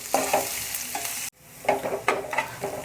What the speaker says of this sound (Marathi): मीडियम टेम्परेचरवर मी त्याला फ्राय करतो आहे